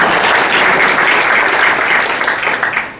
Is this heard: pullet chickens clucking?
no